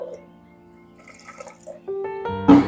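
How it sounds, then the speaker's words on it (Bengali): Water pours into a pot of dal with tender raw mango, a brief gurgling splash rising in pitch as it fills, close and short. "আমি এর মধ্যে দিয়ে দিচ্ছি জল"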